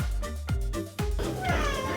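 A pet cat named Lumi meows several times in a row, loud and close, the cries rising and falling over about two seconds in a kitchen setting.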